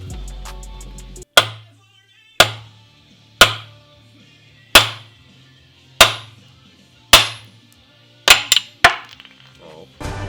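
Hammer strikes on Audi TTS suspension parts during a Koni coilover install, about ten sharp metallic blows spaced roughly a second apart with ringing decay, the last few quicker, loud and close.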